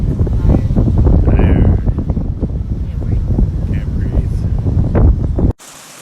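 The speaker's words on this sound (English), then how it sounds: "It's very windy here." Strong wind gusting across a ridge on a Grand Canyon backpacking trip, loud rumbling microphone buffeting throughout, with people talking over it before it cuts off abruptly near the end.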